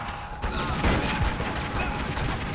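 Lara Croft's weapon fires in a burst of quick gunshots amid mechanical clatter and game effects, a dense rattling flurry lasting a couple of seconds.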